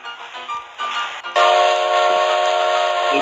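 A train in the Roblox video game rumbles past, swelling suddenly into a loud, sustained roar with a steady horn-like tone, with no talking over it.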